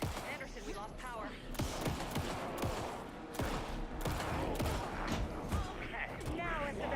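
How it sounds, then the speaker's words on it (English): Gunfire in Alan Wake 2, several sharp shots and bursts scattered through a busy, loud mix of mechanical clanks, creaks and game noise, with voices speaking over it. "Anderson, pin him down with gunfire for me to get the light on him."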